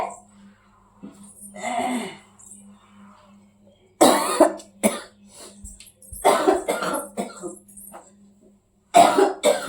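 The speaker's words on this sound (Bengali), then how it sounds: "প্রচন্ড কাশি হয়ে গেছে বন্ধুরা আমার" A person with a bad cough hacks repeatedly in several harsh bursts, close and loud, separated by quieter pauses, with a little talking mixed in.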